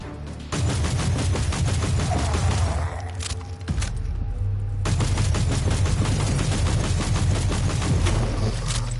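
Turret gunfire in Warhammer 40k: Inquisitor – Martyr, loud sustained rapid bursts over a deep rumbling bed, pausing briefly before resuming at full intensity.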